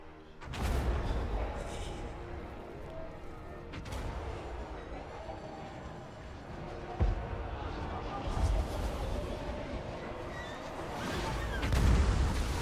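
Trebuchets and a hell cannon lobbing artillery in a large Total War: Warhammer battle, with dull booming impacts scattered over a constant rumbling battlefield din and a narrating voice.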